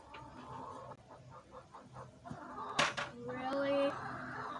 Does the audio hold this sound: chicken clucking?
yes